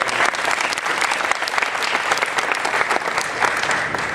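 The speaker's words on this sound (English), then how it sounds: "let's give her a round of applause as well." Steady applause from an audience fills a town hall, a dense, even patter of many hands clapping that holds at a constant level throughout.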